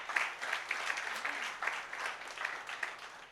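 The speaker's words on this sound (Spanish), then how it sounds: "Denle un aplauso si usted lo cree." Congregation applauding during a Spanish-language church service, a burst of dense, lively clapping from a roomful of worshippers with small swells in rhythm, lasting a few seconds without speech.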